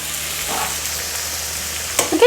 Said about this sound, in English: so our chicken is browning nicely